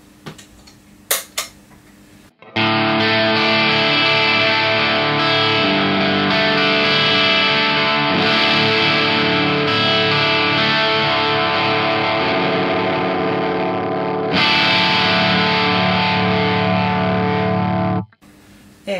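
Distorted, overdriven Les Paul electric guitar through an Organic Sounds overdrive pedal plays a thick sustained riff for about fifteen seconds, with a few faint clicks before it starts.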